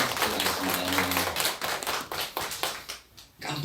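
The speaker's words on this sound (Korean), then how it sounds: "다시 한번 큰 박수 부탁드리겠습니다" A church congregation applauds in a brisk burst of clapping that thins out and fades after a few seconds, with a voice briefly under it.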